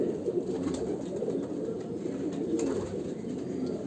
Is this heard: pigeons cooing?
yes